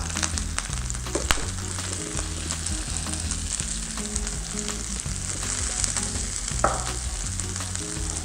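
Pre-cooked chestnuts fry in a spoonful of oil in a pan, a loud continuous close sizzle with a few sharper spatters and clinks, no voices.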